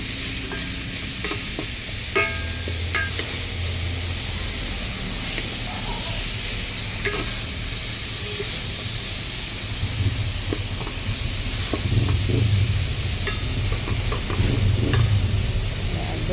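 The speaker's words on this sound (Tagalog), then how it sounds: "Dudurugin po muna natin yung ating kamatis" Tomatoes being crushed and stirred in a pot for sinigang sa miso with milkfish, a steady low scraping and sizzling bubble running throughout with faint clinks, no talking.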